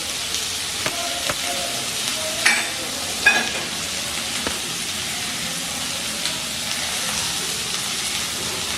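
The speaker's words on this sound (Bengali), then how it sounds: "সম্পূর্ণ ভাজাটা ভেজে নিতে হবে। তাই জন্য এখন অনবরত কিন্তু নেড়ে যেতে হবে" Bitter gourd and pumpkin fry with turmeric and poppy seeds sizzles steadily in a pan over a medium flame, with scraping and clicking strokes as it is stirred without pause, close and fairly loud.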